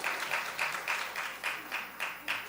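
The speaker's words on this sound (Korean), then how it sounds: "박수 한번 칠까요?" A congregation claps in unison at a Korean New Year's Eve worship service. The claps are loud, rhythmic and evenly spaced, about eight in quick succession, with faint voices in the background.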